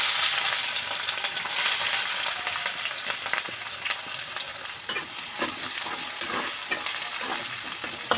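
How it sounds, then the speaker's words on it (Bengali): Chopped onions drop into hot oil with cumin and cinnamon and set off a loud, dense sizzle up close. The frying keeps on steadily with stirring scrapes and a clack partway through. "তেলটা গরম হয়ে গেছে, এবার দিয়ে দেব কুচি করা পেঁয়াজগুলো।"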